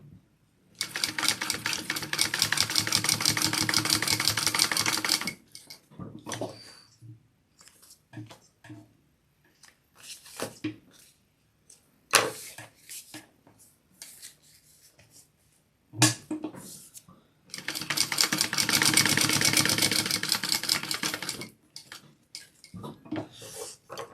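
Sewing machine topstitching a fabric wallet, running in two steady bursts at the start and near the end, with quieter handling clicks and rustles between.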